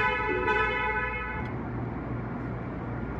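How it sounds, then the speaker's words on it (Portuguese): A steady, tonal car horn on a CaoaChery Tiggo 8 sounds for about a second and a half as a warning for an open power tailgate, then cuts off, leaving a low engine rumble and road noise. "Tava buzinando por causa do porta-mala aberto."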